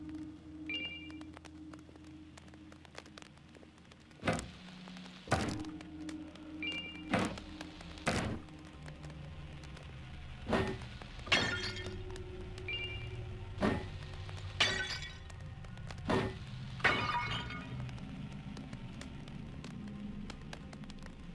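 Clay jars shattering one after another in the dark dungeon game Lunacid, a series of sharp breaking thuds with scattered clinks over a low droning ambience, about a dozen impacts spaced a second or two apart.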